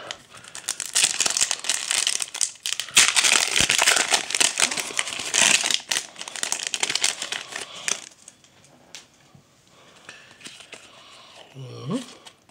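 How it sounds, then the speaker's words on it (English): Trading card packs are torn and crinkled open in a burst of loud, jittery foil rustling, then quieter handling of cards, with a voice speaking near the end. "Y'all here for the cards to see me pop the packs"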